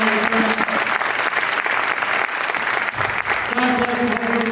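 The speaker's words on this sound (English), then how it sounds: "Nice round of applause again for all our inductees, family, and friends." High school athletic hall of fame ceremony crowd applauding the inductees, families and friends, loud sustained clapping filling the whole stretch, close and dense, with voices talking over it.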